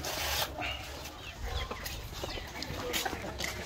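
Chickens clucking softly while being fed moringa leaves amid a busy, noisy background, with scattered clucks and rustling throughout, no one speaking.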